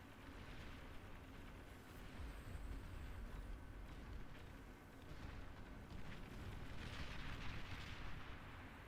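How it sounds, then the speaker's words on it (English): Shell shocker artillery units in an RTS game fire a dense, continuous barrage of booms and rumbling blasts, heavy low-end thunder sustained throughout with no voices over it. "Look at the shell shockers, awesome artillery units"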